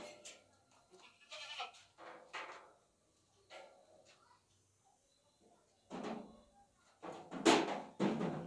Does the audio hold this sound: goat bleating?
yes